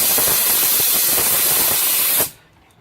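Compressed air tool blasting into a seized brake caliper on a classic Mini, a loud steady hiss of air with fluid sputtering for about two seconds, then cutting off sharply to near silence.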